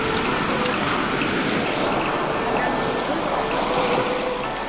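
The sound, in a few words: sea waves at high tide on shore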